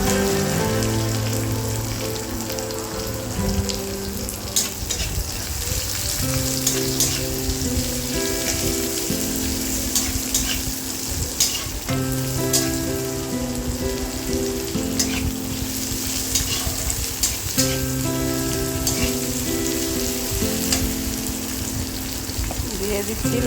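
Chopped onions hit a hot pan already holding black mustard seeds and curry leaves for chirer polao, frying in a steady, loud, continuous sizzle with soft stirring scrapes and no talk.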